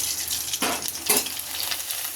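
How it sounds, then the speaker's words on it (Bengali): Papad frying in hot oil, a soft steady sizzle with two brief surging bursts as pieces go in, close and moderately loud, no talking. "সন্ধ্যেবেলায় আমি এখন পাঁপড় ভাজতে বসতেছি।"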